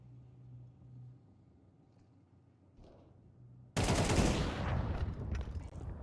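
Sudden burst of heavy rapid gunfire in a competitive Volt match at Exort The Proving Grounds, a loud crackling volley after a quiet low hum, ringing on and slowly tailing off.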